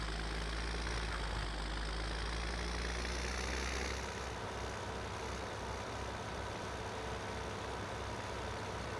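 A tractor engine idles steadily in Farming Simulator 17, a continuous low rumble that shifts to a slightly rougher, pulsing idle partway through, heard alone with no talk.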